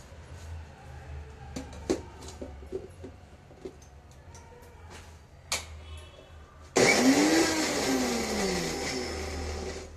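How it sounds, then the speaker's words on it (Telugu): Coriander leaves are ground coarsely in a kitchen mixer grinder for masala puri. Soft kitchen knocks and clinks come first, then the motor kicks in with a loud, steady whirring for the final few seconds. "కొంచెం కొత్తిమీర వేసి ఒక్కసారి ఇట్లా గ్రైండ్ చేసి తిప్పేసుకుంటే కచ్చపచ్చ"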